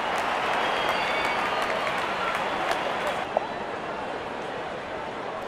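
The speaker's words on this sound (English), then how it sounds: "Crowd is enjoying every bit of this action." A stadium crowd in a cricket video game applauds and cheers steadily as a dense, continuous wash of clapping and roar, loud throughout with no commentary heard.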